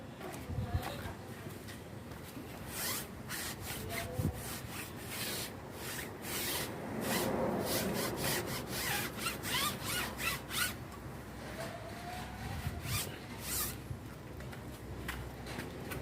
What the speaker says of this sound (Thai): แล้วก็เอามา ผสม เช็ดยางนะครับ